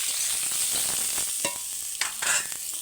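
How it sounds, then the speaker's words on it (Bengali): Ridge gourd and potato pieces are stir-fried in oil, giving a close, steady sizzle with repeated scraping strokes from stirring and a few sharper clatters near the end. No one speaks. "ঝিঙে আলু দুটোই আবার ভালো করে নেড়ে নেবো"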